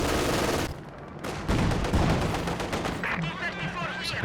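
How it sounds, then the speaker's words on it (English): An explosion from a mine or Panzerfaust in the Company of Heroes 2 strategy game, a dense burst of blast noise amid continuous battle sounds and gunfire, loud and sustained throughout with a heavier thump near the middle. "A mine or a Faust going off there."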